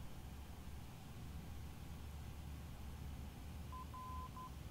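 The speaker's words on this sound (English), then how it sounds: "you can hear the beep, the Morse code" A VOR navigation beacon's Morse identifier in the flight simulator X-Plane 11 sounds as a faint, steady tone in short dot and longer dash beeps near the end, over continuous engine and wind noise.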